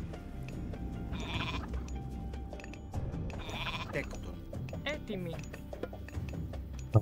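Goats bleating in the strategy game Age of Mythology: Retold, several short bleats over game ambience while someone talks on and off.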